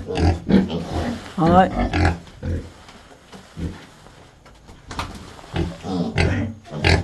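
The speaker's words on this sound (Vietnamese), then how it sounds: "nhà nhiều lợn quá. 7, 8, 9, 10, 11, 12, 13 con lợn." Thirteen pigs in a pen grunt loudly and close by in irregular bursts, mixed with people talking nearby.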